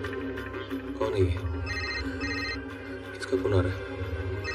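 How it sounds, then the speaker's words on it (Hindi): A phone keeps ringing with a repeating electronic tone while people speak over it close by. "किसका फोन आ रहा है?"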